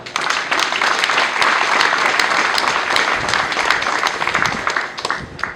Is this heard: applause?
yes